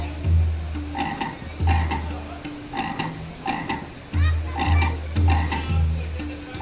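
A frog that has just emerged, along with some water, from a stone split in two croaks in repeated, rhythmic bursts, close and clear with short pauses between calls.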